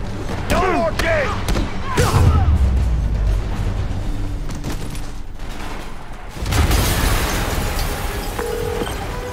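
Heavy booming blasts and low rumbling thuds from an explosion in Marvel's Spider-Man Remastered, loud and close, with a second surge of rumble partway through.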